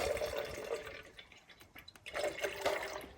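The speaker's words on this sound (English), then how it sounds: "And pour water we got from the creek earlier." Creek water poured from a container into a dehydrated meal pouch, a soft trickling and splashing in two bursts separated by a brief lull, close by with no talk.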